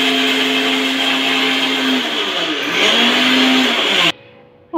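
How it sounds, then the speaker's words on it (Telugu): A kitchen mixer grinder whirs loudly and steadily as it grinds peanuts with a little coconut, its motor pitch dipping and rising under load before cutting off abruptly near the end. "చూడండి పల్లీలు అలానే కొద్దిగా కొబ్బరి అండి ఇది వేసి ఫస్ట్ మిక్సీ పట్టాలి"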